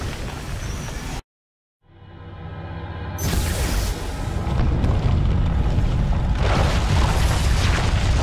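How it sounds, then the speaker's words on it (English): A deep booming ion cannon blast from the video game Command & Conquer: Tiberium Wars erupts after a brief dead silence, followed by a long roaring, rumbling wash that stays loud and dense. "Ion cannon activated."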